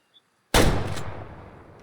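A single hunting rifle shot fired in the hunting game Way of the Hunter, a sudden loud blast after near silence with a long rolling echo fading away.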